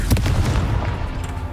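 A Confringo fire-bolt spell in the Hogwarts Legacy video game bursts with a heavy, booming blast near the start, its low rumble rolling on and fading over the next second.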